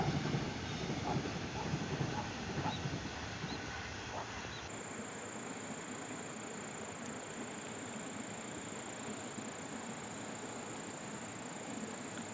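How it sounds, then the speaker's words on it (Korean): A Honam Line train rumbling along the tracks near Wonjeong flag-stop station in rural Daejeon, South Korea, at a moderate distance, a steady rolling noise with a faint high whine joining partway through. "호남선 열차는 지금도 열심히 달립니다."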